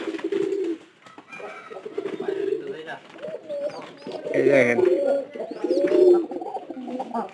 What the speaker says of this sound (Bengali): আর একটা জিনিস দেখা দরকার যে কবুতরের বাচ্চাগুলোর কি অবস্থা